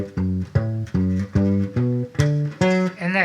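A bass guitar plays a diatonic enclosure line of eight or so distinct plucked notes in an even rhythm, each note clear and sustained, played alone and close.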